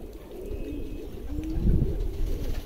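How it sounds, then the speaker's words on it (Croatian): A young pigeon coos softly, a low throaty murmur rising in the middle, set against quiet outdoor background noise. "To je mlad golub"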